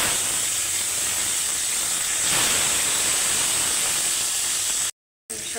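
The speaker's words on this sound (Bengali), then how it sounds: "এখন তেলটা গরম হয়েছে, মাছটা আমি ছেড়ে দিব।" Koi fish dropped into hot oil in a pan for a tomato bhuna curry produces a steady, loud, continuous sizzling hiss that lasts several seconds before briefly cutting out.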